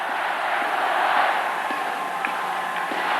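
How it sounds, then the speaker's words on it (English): A basketball arena crowd at the 1988 Ateneo vs La Salle championship game at Rizal Memorial Coliseum keeps up a steady, broad roar of cheering, sustained and fairly distant without clear peaks. "at least you would say that the cheering has slowed down a bit, but on the Ateneo side, it's still roaring high"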